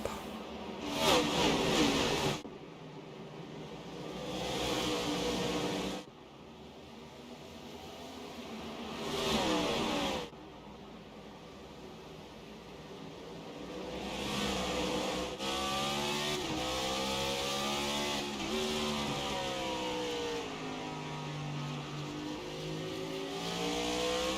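Stock cars roar off at the green flag in a racing game, several engines revving and accelerating in loud bursts, rising and falling pitch as cars pass, continuous engine drone throughout with no voices.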